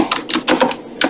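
Quick bursts of keystrokes on a computer keyboard as a group name is entered, several rapid clusters of close, crisp taps with short pauses between, no voices.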